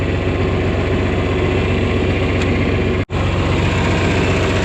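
A John Deere 4020 High Crop tractor engine idling close by, a loud, steady low diesel rumble with one momentary dropout.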